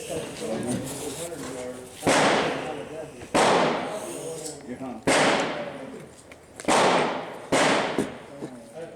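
Sharp AR-15 rifle gunshots at a public shooting range, about five loud cracks spaced unevenly over several seconds, each with a short decaying tail, over faint background chatter.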